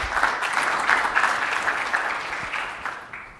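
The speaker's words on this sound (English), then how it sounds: "please give him a warm round of applause" An audience applauds a speaker at a domain-name security talk, steady dense clapping filling the room for a few seconds before tapering off at the end.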